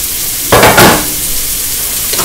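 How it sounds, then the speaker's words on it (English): Frozen peas, carrots and broccoli hit a hot pan of chicken fried rice, setting off a loud burst of sizzling and stirring that fades into a softer steady fry. "I'm going to add my frozen peas and carrots."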